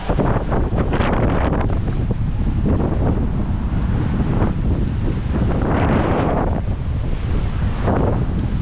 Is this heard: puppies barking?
no